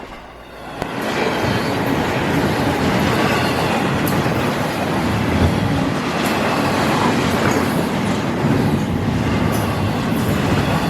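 Freight train 206 rolls steadily past on the railroad tracks at night, a loud continuous rumble of wagons with faint clicking wheel joints, no voices.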